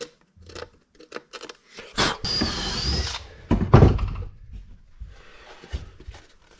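A dull Kreg pocket-hole drill bit boring into wood for boat galley cabinets, a short whirring drill burst followed by scraping and handling clatter, close by.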